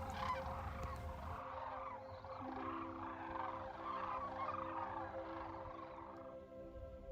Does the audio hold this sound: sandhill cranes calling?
yes